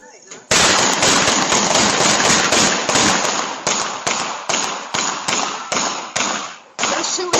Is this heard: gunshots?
yes